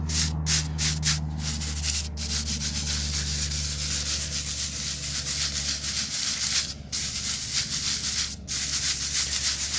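Steady rough scraping and rubbing of a brush sweeping grout across a brick walkway, close and continuous, with a few brief pauses between strokes.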